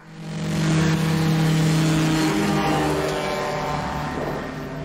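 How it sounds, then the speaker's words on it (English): Propeller engine of a small aircraft in a movie scene, a loud steady droning hum that swells in quickly and holds strong before easing slightly toward the end, with no voices over it. "Definitely a bigger engine, though."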